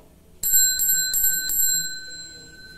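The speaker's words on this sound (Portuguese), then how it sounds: "eu toco o sino" A bell rung four times in quick succession to mark a good beer during a Brahma Chopp tasting, bright clear rings with a lingering metallic ring-out, close and loud with no talk.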